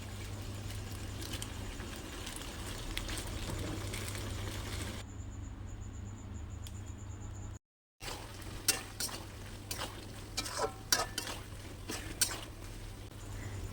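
Potatoes and green peas are stirred in a wok, with a low simmering sizzle under light metallic clinks and scrapes of a spoon; a short silent break comes midway, then sharper, closer stirring knocks follow, and nobody speaks.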